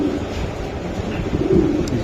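Racing pigeons cooing in a loft, a steady low murmur of overlapping coos throughout, close and continuous.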